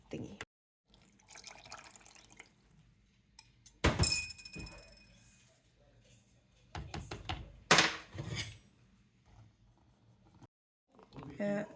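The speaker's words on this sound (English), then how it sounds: "I'm gonna add that into the mixture and mix it in with this" A spoon mixing flour into red velvet cake batter in a bowl, with scattered scraping and clinking strokes, a couple of sharper knocks against the bowl, and quiet gaps between the bursts.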